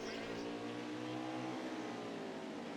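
Race cars circling a sim-racing Xfinity Series round at Mid-Ohio, with a dense, continuous wall of engine whine and layered revving from several cars close together, loud throughout.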